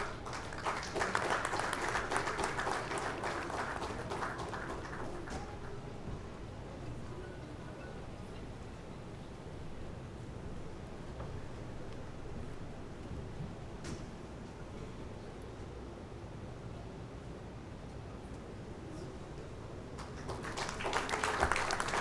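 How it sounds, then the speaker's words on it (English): At a maritime sector summit in India, an audience claps for a government minister. A burst of clapping opens, then fades into quieter room noise, and a second swell of applause rises near the end. "A round of applause, ladies and gentlemen."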